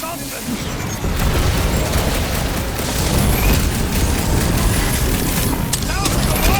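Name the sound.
gunfire and explosions in Guardians of the Galaxy video game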